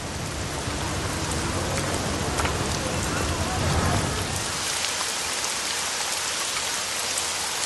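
Heavy, torrential rain pours down steadily in a dense, continuous hiss of drops striking surfaces, loud and close throughout with no voices.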